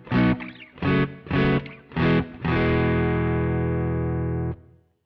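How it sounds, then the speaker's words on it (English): Distorted electric guitar through Pro Tools Deverb room reverb, like an amp in a real room: four short, punchy chords in a quick rhythm, then one long sustained chord that rings out loudly before cutting off. "Now it sounds like I'm playing an amp in a real room."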